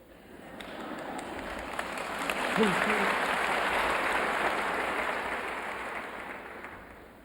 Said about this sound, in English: Perhaps you're clapping for yourself.